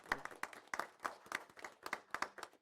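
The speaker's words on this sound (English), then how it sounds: "We need to just applaud you guys." Audience clapping for volunteers of a tourism council at a city council meeting, a short burst of sharp, irregular handclaps from a small crowd, fairly close and with no talking over it.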